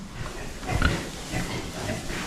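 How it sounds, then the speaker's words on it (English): Pigs grunting in a barn as they come back in to fresh hay, a few low rough snorts clustered near the middle over steady background rustle and noise. "all the pigs are starting to make their way back in here."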